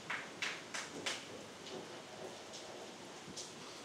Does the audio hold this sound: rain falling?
yes